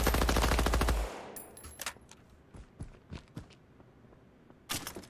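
Rapid automatic gunfire from a weapon in Dr. Disrespect's Midnight Society shooter, a loud burst lasting about a second, then scattered single shots and clicks with a short final burst.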